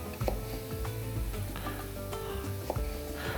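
Chopped vegetables with a small celery stalk fry in a pan for onigiri, giving a close, steady sizzle broken by frequent stirring scrapes and light utensil clicks, with no talking.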